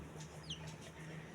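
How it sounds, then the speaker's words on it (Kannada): A chick clucks softly while being fed, brief quiet peeping over a low steady background hum. "ಬನ್ನಿ ಕೋಳಿ ನೋಡ್ರಿ"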